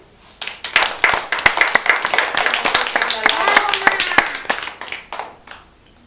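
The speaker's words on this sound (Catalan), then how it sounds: "Fem un aplaudiment." A group claps after a volcanic eruption experiment, starting with a few claps, then building into lively, uneven applause with some voices mixed in, and fading out after about four seconds.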